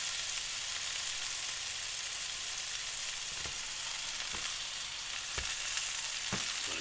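A grass-fed ribeye steak sears in olive oil in a pan with a loud, steady sizzle and crackle, broken by a few brief pops and scrapes.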